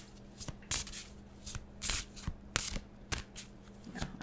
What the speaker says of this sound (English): let's move those cards out of the way